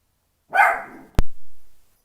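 A single close, loud dog bark, followed by a sharp thump and a brief second yelp, with silence before.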